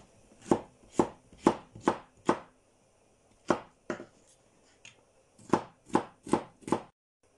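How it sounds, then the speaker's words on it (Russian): A knife chops a bell pepper into strips on a board for a winter borscht preserve, giving close, crisp, evenly spaced cuts in two quick runs of four or five strokes separated by a short pause. "режем его вот на такие вот полосочки, а потом помельче"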